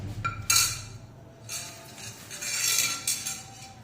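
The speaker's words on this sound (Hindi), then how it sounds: "ज़ीरा पाउडर, हल्दी और ये टिक्का मसाला 1 बाय 1 सब ऐड कर देंगे और इसको अच्छी तरह विस्क कर लेंगे" Yogurt being whisked in a bowl with cumin powder, turmeric and tikka masala for a chicken korma. Close, intermittent metallic clinks and scrapes of the whisk against the bowl come in short bursts, with no talking.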